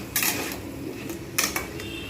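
Boiled elephant foot yam is sautéed and stirred in a pan for a Bengali curry. A soft sizzle runs throughout, broken by a few light clinks of a spoon against the pan.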